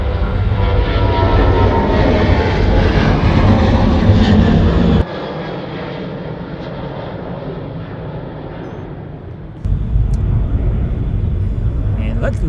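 A huge C-17 military transport aircraft takes off at Charlotte Douglas Airport, a loud, continuous engine roar that drops partway through and then surges again.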